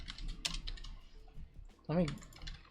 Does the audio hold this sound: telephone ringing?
no